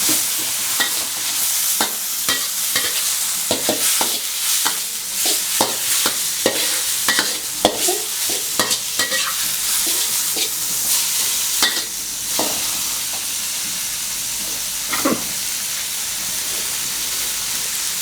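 Vegetables stir-fry in an iron wok for pad kee mao, a loud continuous hissing sizzle with irregular metallic scrapes and clanks from tossing, sustained without any talking.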